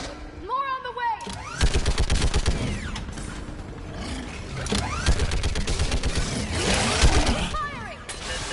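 Sustained gunfire rattles through a battle on Rannoch in the video game Mass Effect 3, with dense rapid bursts, mechanical clatter and sweeping whines, loud and continuous throughout.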